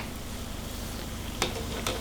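Small mini onde dough balls frying in hot oil over a low flame, a steady close crackling sizzle throughout with two brief sharp clinks near the end, no voices.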